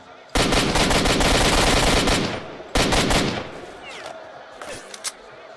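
Loud, dense bursts of rapid automatic gunfire in S.T.A.L.K.E.R.: Shadow of Chernobyl, two long volleys separated by a short gap, then scattered fainter shots and effects.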